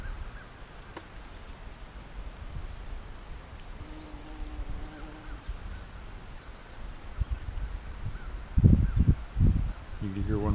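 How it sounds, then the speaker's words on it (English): A pet crow caws several times in quick bursts from the background, with faint outdoor rustling around it. "You can hear one of my crows in the background."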